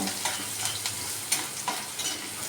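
Steady crackling sizzle of onions frying in a pan, with a few soft stirring scrapes and no speech.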